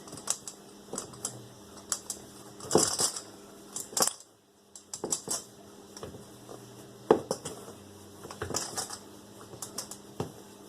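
A pastry cutter pushed hard through cold butter and flour in a bowl for lemon bars, irregular clusters of metallic clinks and scraping taps against the bowl, close and crisp with brief pauses between bursts.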